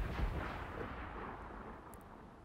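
Fort mortars in Assassin's Creed 4 fire at sea, a low rumbling boom fading away like distant thunder, muffled and somewhat far off with no voices.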